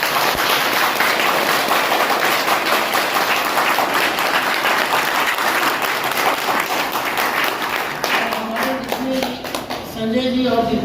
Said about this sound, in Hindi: आप लोग अपने विशेष ताली से सबको आमंत्रित कीजिए।